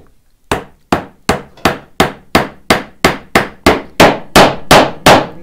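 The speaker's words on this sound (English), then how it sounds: "Let me grab my mallet" A wooden mallet drives wedges into a blind wedged mortise and tenon joint, producing a steady run of about fourteen sharp, close, loud knocks at an even quick pace, with no talking.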